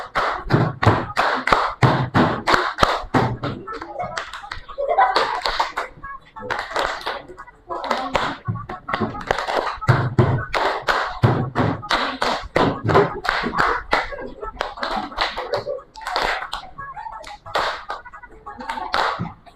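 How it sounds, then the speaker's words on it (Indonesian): A classroom of students clapping their hands in place during a coding lesson, bursts of loud rhythmic group clapping with brief pauses between rounds, children's voices mixed in. "Kita tepuk tangan di tempat aja nih ya."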